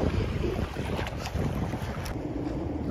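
Strong wind buffeting a boat out on the water during a fishing trip, a loud continuous roar of gusts against the microphone with waves beneath, no voices.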